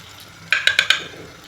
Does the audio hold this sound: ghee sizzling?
yes